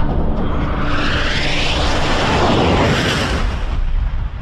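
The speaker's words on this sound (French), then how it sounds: "L'impact a déclenché une onde de choc plusieurs fois supérieure à celle d'une explosion nucléaire." A massive asteroid impact explosion roars out, a dense rumbling blast that swells and sustains for several seconds before beginning to fade.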